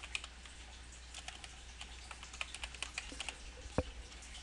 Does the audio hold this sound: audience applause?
no